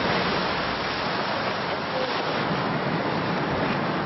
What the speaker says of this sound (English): Waves are coming across us from the right.